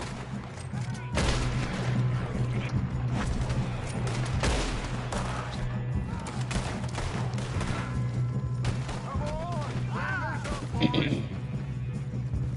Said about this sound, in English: Good shooting, kid.